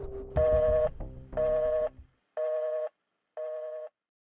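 Telephone tone after a call is hung up, four evenly spaced electronic beeps in a steady on-off pattern, loud and close, the first two partly overlapping a brief rustle.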